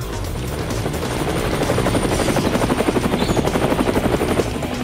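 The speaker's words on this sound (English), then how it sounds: "The chopper's here." A video game helicopter's loud, pulsing rotor thumps close overhead, steady and continuous with a dense mechanical whine.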